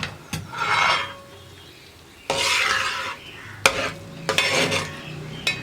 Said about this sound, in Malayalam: ഇനി ഇതൊന്ന് ഇളക്കി മിക്സ് ചെയ്യാം.